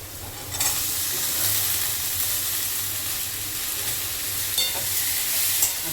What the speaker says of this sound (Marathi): आता भोपळा फ्राय खालीवर केला ना